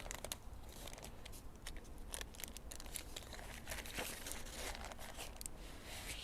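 Paper crackles and crinkles steadily up close as it is rolled tightly around a meatloaf, a dense, continuous rustle with sharp little crunches throughout.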